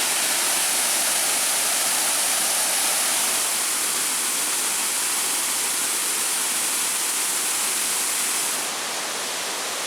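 Waterfall pouring over rock ledges, a steady, loud broadband rush of falling water filling the whole stretch without pause, easing very slightly near the end.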